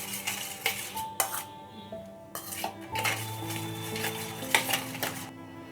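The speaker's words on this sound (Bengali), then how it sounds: "এগুলো একসঙ্গে ভালো করে মিশিয়ে নেব" Sugar, baking soda and baking powder get mixed together in a bowl, with repeated metallic clinks and scrapes of a spoon against the dish, some ringing tones, close and unaccompanied by voices.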